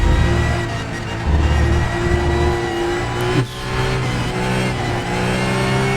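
A car in a racing video game revs hard while drifting, a loud, close engine whine that climbs and shifts pitch, with a brief dip and gear change midway before the engine holds high again.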